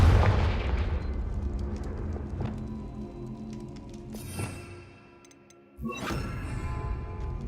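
Confringo spells go off in Hogwarts Legacy as fiery blasts, a few distinct bursts spaced seconds apart, the last one loud and close after a brief lull, over ambient game sound.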